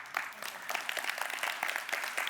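Scattered audience clapping at a men's motivational speech, light and uneven for a couple of seconds with no voices over it.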